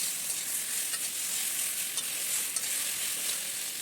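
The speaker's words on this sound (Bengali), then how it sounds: "মশলাকে একটু নাড়িয়ে চাড়িয়ে" Ground mustard, cumin and ginger spice paste stirred in a hot pan, giving a steady close sizzle of frying with soft scraping from the stirring, continuous throughout with no talk.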